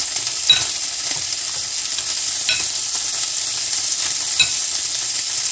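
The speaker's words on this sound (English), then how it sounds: "my potato masher and I'm gonna mash the tomatoes and the feta cheese, kind of." A potato masher mixes cherry tomatoes and feta cheese in a pan. The hot mixture sizzles steadily while a few soft, wet mashing pushes land at intervals. No one speaks.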